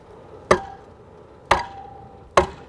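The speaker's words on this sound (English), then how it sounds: "lift it up and pound it on the concrete. So we're just going to use the weight of the pole to drive it into the" Wooden deck post lifted and pounded down on concrete to drive it into a collar: three sharp, solid knocks with a short ringing tail, evenly spaced about a second apart, fairly close and alone.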